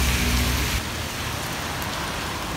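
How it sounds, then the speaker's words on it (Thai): Steady rain hisses across the whole stretch, with a low rumble from an Alsthom diesel locomotive hauling a train underneath for the first moment that then drops away. "ฝนตกแล้วก็ชุ่มฉ่ำ"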